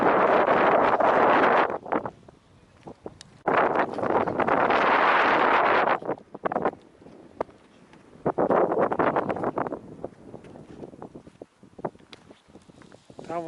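Wind buffets the microphone on a white-sand beach at Akhlestyshev Bay near Vladivostok in October, loud gusting roars alternating with calmer stretches, and a person talks during the quieter gaps.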